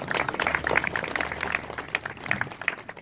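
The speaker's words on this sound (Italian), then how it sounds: "Chiedo anche per lui un applauso" An audience at a ceremony applauds, giving a steady patter of many hands clapping at moderate distance, somewhat faint and continuous for the whole stretch.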